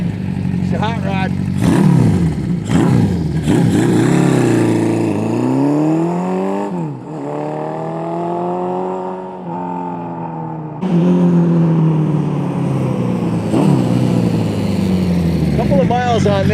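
A 1978 Honda CB550K motorcycle engine revs and pulls through the gears while riding, with rising and falling harmonic whine, loud and close, with a brief dip before the engine note returns.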